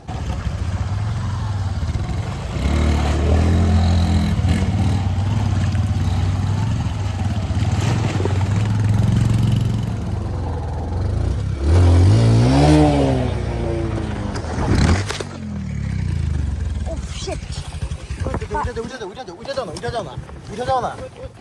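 A motorcycle rides over a rough, slippery road beside a river, its engine droning steadily with bumps and revving while voices talk over it for much of the ride.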